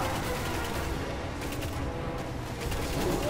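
Sustained gunfire in the video game Destiny during the Oryx boss fight in the Regicide raid encounter: dense, rapid shots blending into a continuous loud barrage with no clear gaps.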